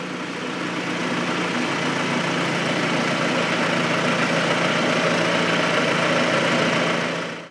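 A Lindner tractor engine idles in a steady, loud, even drone for several seconds, close by and alone, then cuts off abruptly at the end.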